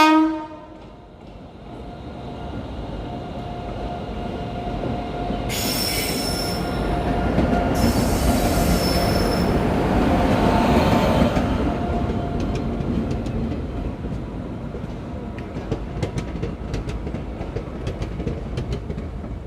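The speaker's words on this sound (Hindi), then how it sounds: "तो चलिए बस ट्रेन का अराइवल दिखाते हैं" Kanpur–Raebareli passenger train arriving at a station, close and loud, with a horn blast at the start, long shrill wheel squeals in the middle, and steady rumbling plus clickety-clack of the cars rolling past.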